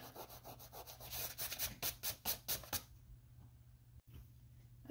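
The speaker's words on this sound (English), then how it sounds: "now I'm gonna go ahead and rub off these circles that I made out of masking fluid" Dried masking fluid being rubbed off watercolor paper by hand, a series of quick scratchy rubbing strokes close up, followed by near silence and a brief faint sound at the end.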